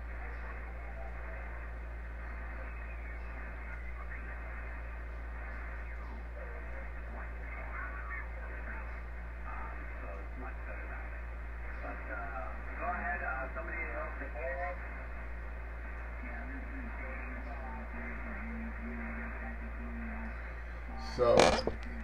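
A Kenwood TS-120S ham radio receiver gives off a steady mains hum and faint static with indistinct distant voices coming through, ending in a brief loud crackle.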